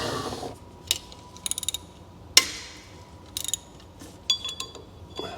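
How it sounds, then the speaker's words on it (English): Ratcheting and metallic mechanical clicks in short bursts, with a sharp crack near the middle as a small bolt snaps under a hex socket on a crash-damaged 1986 Chevrolet Monte Carlo SS. "That didn't sound good to me. I think that bolt might have just broken."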